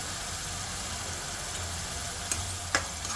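Steady broadband sizzle of onions frying in a pan for paneer matar masala, with a low hum underneath and two brief clicks near the end; no talking.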